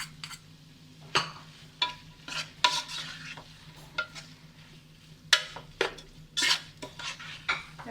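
Egg being stirred into mixed Indo-Chinese spaghetti noodles in a pan: a run of scraping, clinking utensil strokes against the pan at an irregular pace, up close, over a low hum with no talk.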